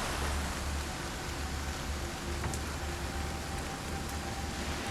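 Steady rain falling with a faint breeze, an even hiss of drops on surfaces with no voices, continuous and moderately quiet throughout.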